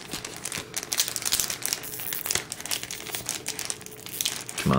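Crinkly foil wrapper of a Japanese Pokémon card booster pack being torn and wrestled open, a dense run of close crackling and tearing rustles that build in bursts and continue for several seconds.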